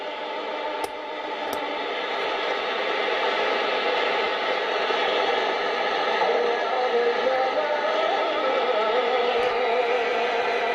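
Faint distant shortwave broadcast heard on an Icom IC-735 amateur transceiver, a weak station buried in steady hiss and static with a faint fluttering tone, continuous and with no talk over it.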